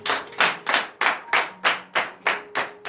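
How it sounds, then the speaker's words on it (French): Congregation at a Tuesday morning prayer service in Comè, Benin, clapping in a steady unison rhythm, about nine sharp group claps in under three seconds, close and loud with no talk over it. "Donnez l'acclamation à ça."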